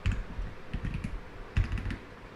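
Someone types a command on a computer keyboard, with irregular clusters of light, close key clicks and short pauses between them, quiet and alone.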